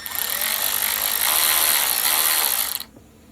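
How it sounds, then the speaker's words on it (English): A power screwdriver whines in one continuous burst of almost three seconds, backing a side cover screw out of a Daiwa 7850RL fishing reel, then cuts off abruptly into near silence. "take the 3 screws off the side cover"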